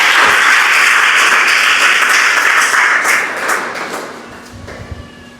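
A church congregation at a Sunday family service claps steadily and loudly, a dense wash of applause that fades toward the end.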